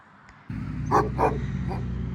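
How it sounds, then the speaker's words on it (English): Guard dogs on a reindeer farm bark outdoors, with three sharp barks close together and then a fainter fourth, over a steady low hum and no talking. "Yeah, 5 guard dogs."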